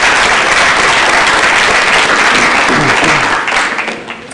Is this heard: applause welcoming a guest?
yes